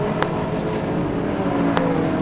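Several classic race cars roar past together at speed at Mallory Park circuit, a steady dense engine drone with brief high bursts as they pass close by.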